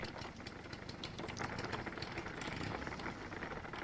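A car engine idles in the video game Jalopy, set in Czechoslovakia in the rain, as a faint, steady rapid chugging with light ticking and rattling layered on top, continuous and without speech.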